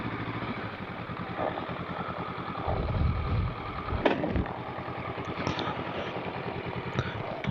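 Honda CL500 motorcycle engine running at low revs while being parked, a steady close rumble with a brief clatter partway through, no talking.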